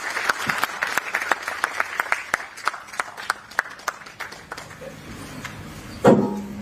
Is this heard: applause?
yes